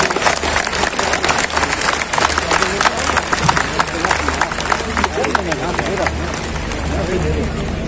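A large crowd at a rally in Azad Maidan, Mumbai applauds to welcome former Justice Kolse Patil, a dense, continuous wash of clapping with crowd noise and a low hum underneath, loud and sustained.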